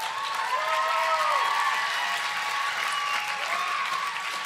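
Conference audience applauding and cheering, dense sustained clapping with whoops and shouts, loud and close throughout.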